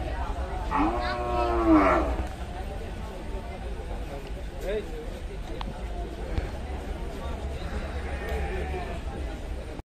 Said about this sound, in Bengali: অনেক বড় একটি গরু, বিশাল একটা গরু।